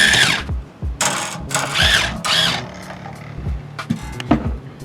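Bass guitar string being wound on a Warwick bass with a string winder, several loud whirring bursts of a few tenths of a second each, stopping and starting close up.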